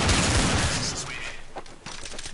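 Gunfire in Counter-Strike: Source bursts out in a loud, rapid volley at the start, then thins into scattered sharp cracks and shots over a couple of seconds, with no talk.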